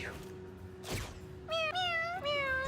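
Cats in a video game give a soft rustle followed by two or three distinct, fairly loud meows in quick succession, with no talk.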